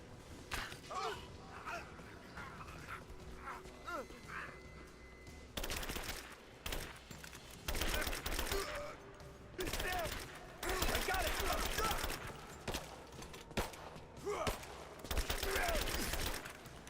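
Bursts of gunfire in Rise of the Tomb Raider come in loud, dense volleys and rapid shots, alternating with quieter gaps and brief thuds, and someone talks during the quieter opening.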